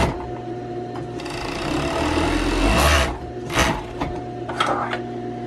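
A sewing machine stitches the side seams of fabric flared trousers together, a close, steady mechanical whirring that speeds up and slows in short bursts, with no talking.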